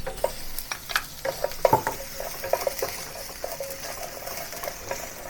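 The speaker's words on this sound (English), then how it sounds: "Let's start by putting in the ginger first." Ginger hitting hot oil in a clay pot for a shrimp and glass noodle dish, with a brisk close sizzle broken by quick clinks and scrapes of a utensil against the pot.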